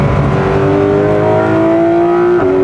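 A Porsche Carrera on a race track holds a loud, steady engine note with a smooth tone, then dips slightly in pitch near the end.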